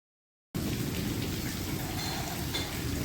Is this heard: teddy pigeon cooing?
no